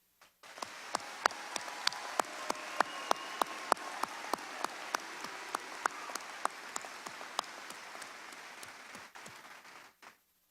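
Audience applause at a Southeast Missouri State University spring commencement, a wash of many hands in a large hall with a few sharp nearby claps standing out, fading after about ten seconds.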